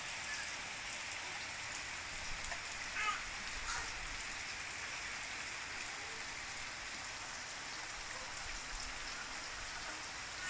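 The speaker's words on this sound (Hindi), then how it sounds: "बहुत ज़्यादा बारिश हो रही है।" Rain falls steadily in a soft, continuous hiss with scattered drips and patters, fairly distant and even throughout.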